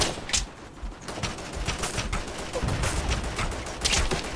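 Incoming gunfire in the war game Operation Flashpoint: Red River, a dense rattle of rapid shots and cracks, fairly close and continuous, with a few sharper bursts and no talk.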